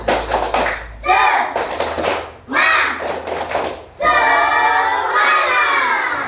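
A school class performs the rhythmic 'tepuk semangat' clapping cheer, bursts of sharp group claps alternating with children chanting in unison, ending in a loud sustained shout from the whole group.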